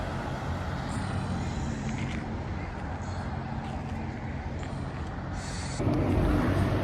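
A London route 35 double-decker bus passes along busy Newington Causeway, a steady engine and road rumble with brief higher hissing bursts, rising louder near the end amid general traffic noise.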